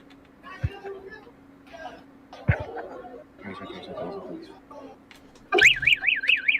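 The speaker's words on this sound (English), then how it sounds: "Did he just pull a fucking fire alarm?" A fire alarm that has just been pulled starts up near the end, a loud warbling siren that cuts in sharply after a stretch of street chatter and laughter.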